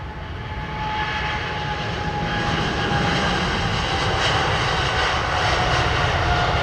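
An aircraft takes off from a Heathrow Airport runway in fog, a steady loud jet engine roar that builds slightly and holds throughout, with no voices.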